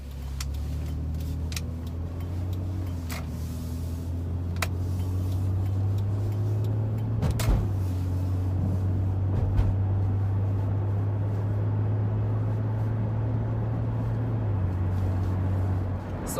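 Engine of a 1998 Honda Accord while driving, a steady low drone from inside the car that rises slightly in pitch and then settles, with faint ticks and clicks along the way.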